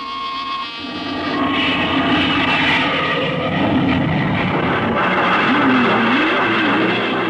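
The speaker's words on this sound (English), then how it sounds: "Clear for takeoff, Charlie?" A sound effect of an aircraft taking off in a science-fiction radio drama: a loud engine roar swells after a brief quieter start and holds steady, with a wavering, rising whine running through it.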